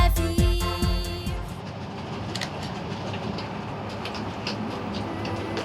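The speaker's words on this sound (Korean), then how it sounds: "베를린에서 기차로 3시간 반을 가면 도착하는 옛 동독의 도시 드레스덴행 열차입니다" A train bound from Berlin to Dresden, with a few sharp low clanks and whooshes at the start, then a steady rumbling, rattling roll of the carriages continuing loudly throughout.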